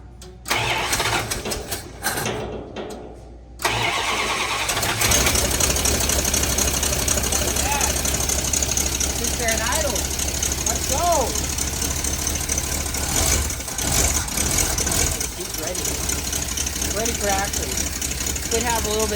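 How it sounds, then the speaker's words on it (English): An old Dodge D100 truck engine, lacking proper exhaust, cranks a few times, catches with a roar, then settles into a loud, rough, knocking idle while people talk nearby. "We're gonna go see if she fires up."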